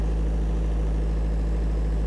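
A Gogopower diesel generator set idles steadily while cooling down, a low, constant engine hum with a firm rhythmic throb, close and unbroken with no voices.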